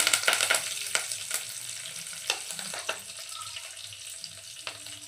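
Dal tempering with curry leaves sizzling and crackling in hot oil, a dense frying hiss with sharp spatters and pops, loudest at the start and continuing close up with no talk.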